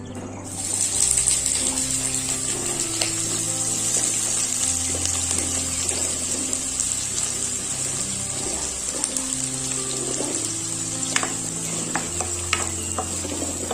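Onions fry in hot ghee and white oil for a special egg korma, a bright steady sizzle under intermittent stirring scrapes and clinks, heard close with no talk.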